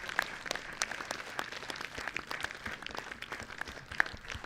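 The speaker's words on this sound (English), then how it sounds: "Again, another huge round of applause." Spectators at the Aldred Trophy 2021 rugby kicking contest give a round of applause, heard distant and faint as a thin scatter of claps with a few sharper individual hits over open-air background.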